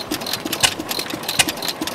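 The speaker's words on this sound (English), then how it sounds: "That's a 9-horsepower Fairbank Morris." A 9-horsepower Fairbanks Morse engine at an antique machinery show runs at a steady rhythmic chug while belt-driving a Myers water pump. Its regular mechanical knocks repeat clearly up close, with no talking.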